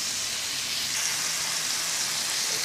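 Food frying in oil in a pan while preparing Tunisian lasagna, a steady continuous sizzle with a bright hiss, close and even throughout, no voices.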